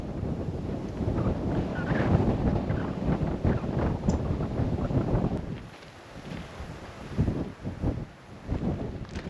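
Strong wind at a lookout in Millstream Chichester National Park, Pilbara, buffets the microphone in loud, gusting roars, briefly easing midway before surging again; no voices.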